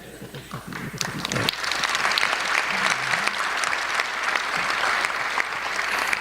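Audience at a Tamil patti mandram debate stage event applauds eagerly for a speaker, a dense, sustained wash of clapping that swells after the first second and holds steady throughout, with faint voices low beneath.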